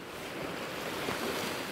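Ocean waves wash against a breakwater of tetrapods on the Hokkaido coast, a steady, close rushing roar of surf mixed with wind buffeting, with no voices.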